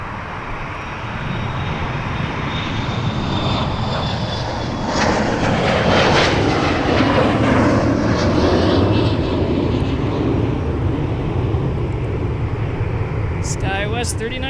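SkyWest airliner taking off at Minneapolis–Saint Paul airport, a loud rising jet roar that swells toward the middle and stays heavy, with a whining engine tone sweeping across it and voices speaking over the noise.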